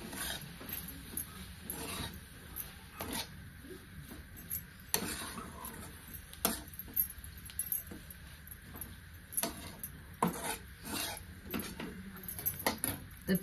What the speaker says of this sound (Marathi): छान अशी भाजी मिक्स करून घेते